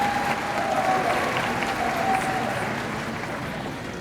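An audience at a 2019 School of Journalism and New Media commencement ceremony applauds a graduate with steady, dense, loud clapping that continues throughout.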